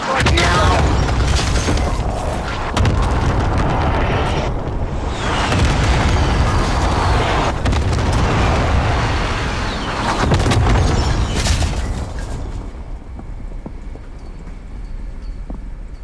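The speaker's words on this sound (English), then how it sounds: "Cluster strike away." Cluster strike explosions in Call of Duty: Modern Warfare thunder through a dense, rumbling barrage of loud blasts, with bursts swelling around two, six and ten seconds before thinning into a quieter tail.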